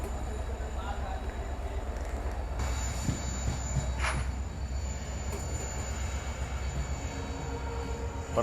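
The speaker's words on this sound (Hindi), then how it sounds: "10:30 पर फाइनली अपना डिपार्चर हो रहा है।" Marathwada Sampark Kranti train departing, a steady low rumble of wheels on track with a faint high squeal and occasional clanks, heard from inside the moving coach.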